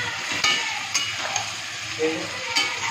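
Crab masala curry, thinned with the water from rinsing the spice bowl, is stirred in a pan over steady frying sizzle, with a few sharp scrapes and clinks of the spoon against the metal.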